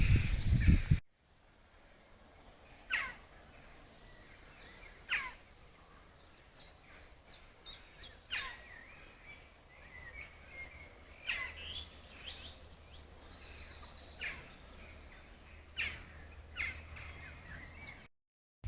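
Scattered bird calls ring out over quiet rural countryside, a series of short, fairly faint chirps and caws spaced irregularly against a soft, still background.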